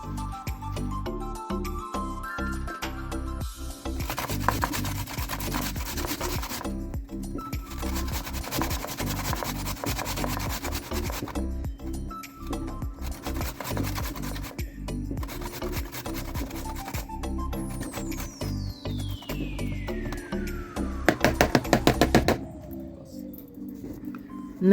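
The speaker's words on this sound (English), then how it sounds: "go ahead and grate all of the potatoes" Potatoes being grated by hand for German potato pancakes, with rhythmic rasping strokes against the grater in bursts of steady back-and-forth rubbing, close and clear over faint background music.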